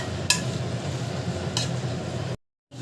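Vegetables with green chillies being stirred and sautéed in a pan, a steady close sizzle broken by a few sharp clinks of a utensil against the pan, then a brief silence before the cooking resumes.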